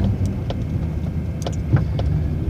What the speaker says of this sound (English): It's working hard, the truck.